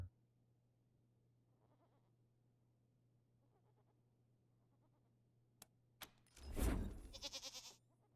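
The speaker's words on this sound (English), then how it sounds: "The goat lets out a satisfied bleat and turns around." A goat wearing a bucket around its neck in the game Wasteland 3 gives a loud, wavering bleat near the end, after a couple of sharp clicks, over a steady low hum and faint background ambience.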